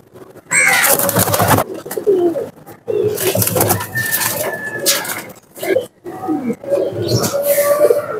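Bullet teddy pigeons, male and female, coo loudly and close in repeated throaty phrases broken by brief pauses, with some chirpy calls mixed in.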